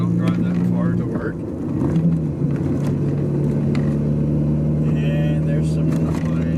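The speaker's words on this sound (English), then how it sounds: "That's the most amount of noise I've heard from the car so far." Steady low road rumble and engine hum inside a Volkswagen Jetta while driving, a continuous drone with tyre noise throughout, fairly loud and close, with faint voice-like sounds mixed in.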